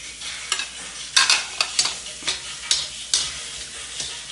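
Ginger and onion sautéing in a pan for chicken tinola, a soft continuous sizzle broken by repeated quick scraping stir strokes, close and fairly quiet.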